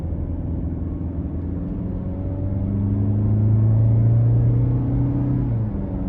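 A 2022 Nissan Altima 2.5 SL AWD with a non-turbo 2.5-liter engine heard from inside the cabin on the road, a steady low engine drone and road rumble that rises in pitch and volume as it accelerates, then eases off.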